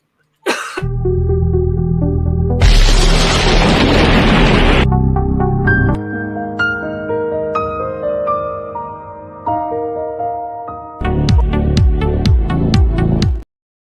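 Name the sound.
loud show bumper jingle played on a live stream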